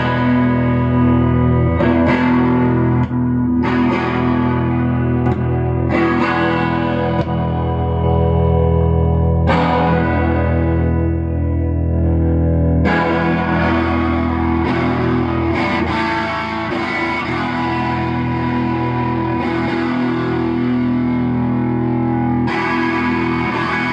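A loud electric guitar through an MXR Distortion Plus pedal plays sustained chords and riffs, with brief pauses between phrases, thick and saturated throughout.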